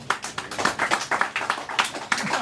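An audience claps after a poem reading, a close burst of steady rapid applause from a small group lasting a couple of seconds.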